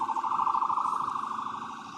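Emergency vehicle siren wailing steadily during a street protest, a warbling tone fairly close at first and then slowly fading as fire and ambulance crews arrive.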